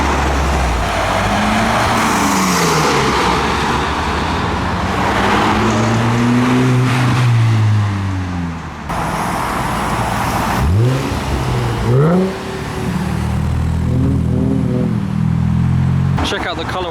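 Modified cars pulling away from a car meet, engines revving and rising in pitch one after another in several loud sweeps, with exhaust rumble and crowd chatter underneath.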